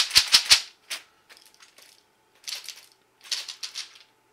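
A loose screw rattles around inside a computer keyboard as it is shaken, giving several sharp clattering bursts at first, then fainter scattered rattles and two more clusters of clicking, with no talk.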